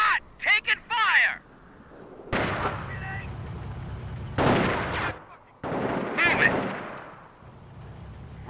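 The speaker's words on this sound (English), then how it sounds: "Taking automatic fire!" Bursts of automatic gunfire and heavy blasts in Company of Heroes: Modern Combat, People's Liberation Army against US Army, come in several loud volleys, with shouting soldier voices between them.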